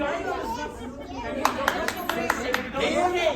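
About seven sharp, separate claps ring out in a steady rhythm from a small group at a table in a classroom workshop, rising above ongoing chatter and talk in the room.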